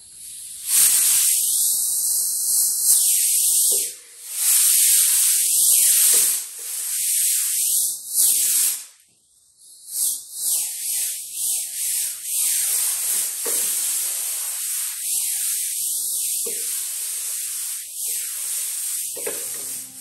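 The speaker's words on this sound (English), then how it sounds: "And then I'm going to grab my compressor again." An air compressor sprayer hisses loudly as it sprays onto a concrete floor being painted, in repeated bursts of varying length with short pauses, close and dominant with no talk.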